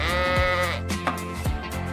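A toy sheep gives a loud, close, drawn-out electronic bleat, then a few shorter wavering bleat sounds follow, with no speech.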